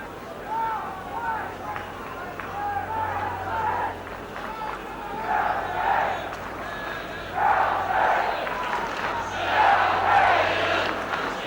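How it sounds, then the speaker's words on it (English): Chelsea football crowd at a 1972 league match, a broad, steady roar of supporters that swells in waves throughout, heard under continuous commentary from a voice. "Chelsea crowd beginning to get behind the men in blue as Harris takes the throw."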